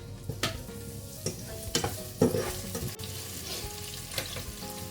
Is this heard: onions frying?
yes